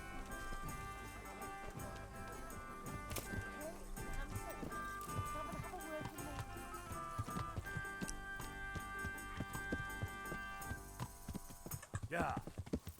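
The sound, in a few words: horse galloping in a medieval video game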